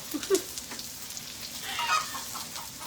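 Chickens cluck softly nearby, a couple of short calls followed by faint chatter, with a light sizzling hiss underneath.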